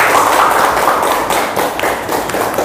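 A class of students clapping together in a classroom, a dense, steady patter of hand claps that thins slightly toward the end, with no voices over it.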